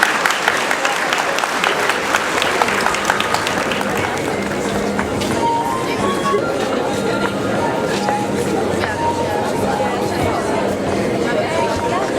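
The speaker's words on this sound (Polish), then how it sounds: "Proszę o brawa dla klasy trzeciej." Sustained crowd applause fills a high school hall at a 2013 graduation ceremony honouring a third-year class, a steady dense roar of many hands clapping, with chatter and faint tones mixed in.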